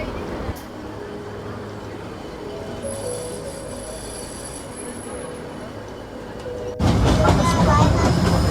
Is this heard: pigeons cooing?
no